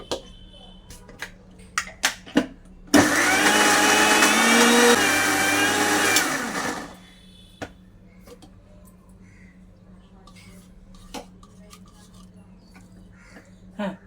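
A kitchen blender grinds coconut with a loud, steady whir that runs for about four seconds and then cuts off, with quiet clatter and handling sounds before and after.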